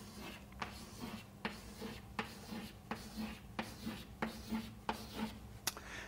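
Ten coins being drawn on a board during a mathematics lecture, a run of short scratchy marker or chalk strokes in a regular tapping rhythm, faint and close, with no speech over them.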